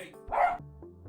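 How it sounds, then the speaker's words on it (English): A dog gives a single sharp bark, close and clear, against a quiet background. "Sorry, the dogs are having a moment."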